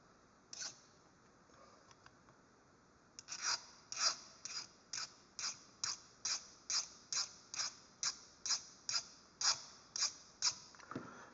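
A hardness-test file is scraped across the jaw teeth of a plier, giving one rasp, then a steady run of about fifteen evenly spaced short scratching strokes, close and alone.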